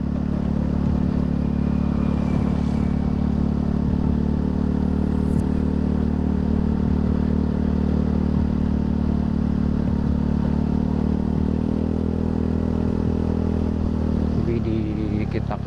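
A Honda Beat FI scooter engine hums steadily at cruising speed, a constant mid-low drone with faint road rattle and no pauses throughout.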